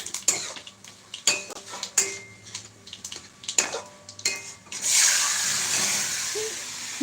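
A spoon scrapes and clinks against a small kadai as oil with fennel and mustard seeds is stirred so nothing sticks, with sharp intermittent metallic knocks giving way to a steady close sizzle.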